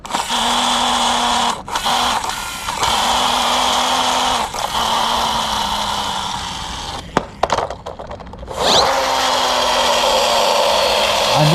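A Toyo toy train runs with a loud, whirring motor that sounds like a drill whine, steady and close, broken by a few brief dropouts and clatters before it resumes.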